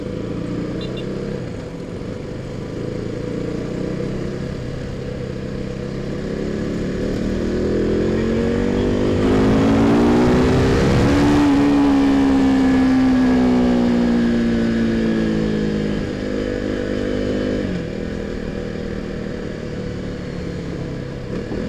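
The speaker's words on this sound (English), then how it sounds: "now I'm almost riding in kind of bumper to bumper traffic" A KTM RC 390 motorbike's single engine hums steadily in slow bumper-to-bumper city traffic, close and loud, rising into a revving climb midway before easing back to a steady drone.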